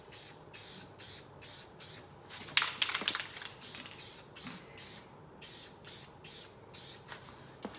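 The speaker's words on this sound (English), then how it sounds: "Since it's just spray paint" A spray paint can hisses in a run of short, even bursts as a custom shift knob gets a heavy coat, each spurt separated by brief pauses, with a louder rattle and clatter midway.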